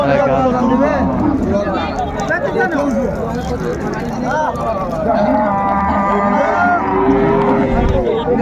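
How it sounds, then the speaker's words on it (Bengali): Cows and calves at the Raniganj cattle market give repeated loud, drawn-out moos and bellows close by, while people talk and a crowd murmurs throughout. "গাভী বাছুর আমরা দেখছিলাম এখানে"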